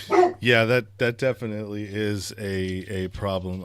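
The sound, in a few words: dog barking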